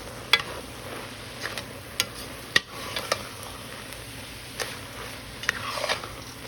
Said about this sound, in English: So we're gonna put our flour in. We're gonna stir this around.